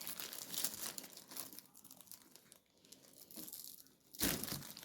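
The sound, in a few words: crinkling plastic bag of packaged beef burger patties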